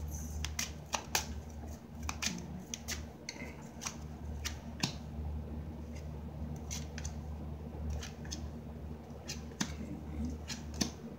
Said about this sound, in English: I'm going to shuffle from my Lenormand playing cards deck to clarify all 11 cards